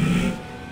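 Blaine County Sheriff's car engine revving in Grand Theft Auto V, a loud, close mid-pitched engine roar that eases off after a fraction of a second into a steadier hum.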